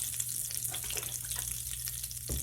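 Butter melts in hot oil in a pan for a pasta sauce, giving a soft, steady, continuous sizzle close by, with a brief clink near the end.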